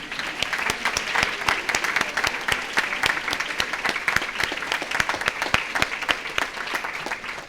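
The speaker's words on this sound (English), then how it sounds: "could we give our jubilarians a round of applause?" A congregation in a chapel applauds sisters celebrating their jubilee, producing sustained, even clapping from many hands at moderate loudness that holds steady throughout, with no talking over it.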